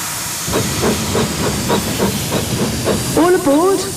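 Loud steam hiss from a locomotive with rhythmic chuffing bursts, then a short tooting tone near the end.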